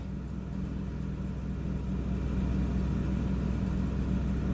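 A 2009 Ford F250 pickup with a 6.4 Powerstroke diesel runs rough with a misfire, giving a steady low rumbling idle that stays close and continuous throughout.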